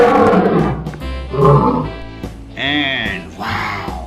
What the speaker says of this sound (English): whoa, wow, lion. This is the king of the jungle,